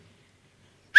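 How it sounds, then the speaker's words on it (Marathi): An audience member at a Marathi stage comedy show whistles once, a single short, sharp, rising whistle that cuts in at the very end after near silence. "ही शिट्टी होती आपल्या टीमसाठी"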